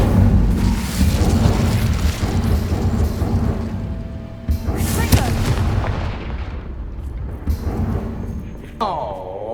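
Incendio fire spell in Hogwarts Legacy, a roaring, crackling burst of flame that stays loud and dense throughout, with booming surges and a voice speaking near the end.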